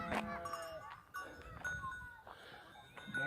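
Several goats bleat loudly and overlapping while fighting, close by, with wavering cries and some scuffling and thumping between them.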